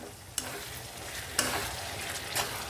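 A cauliflower, drumstick and tomato curry sizzling steadily in a pan, close and fairly quiet, with three distinct scraping stirs spaced about a second apart and no talking.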